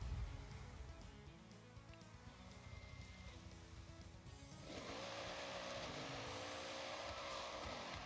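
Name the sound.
Noble M600 car driving in Forza Horizon 6 video game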